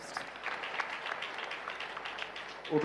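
A church congregation at a deliverance prayer service led by Prophet TB Joshua claps softly, with steady, faint applause and a louder rise right at the end.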